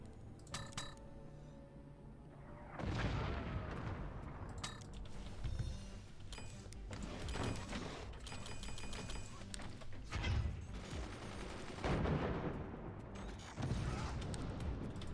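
Weapon shots striking a turbine in the video game Forts: a run of metallic clanks, crunching impacts and rattling mechanical debris bursts that recur every second or two over a busy background of game effects.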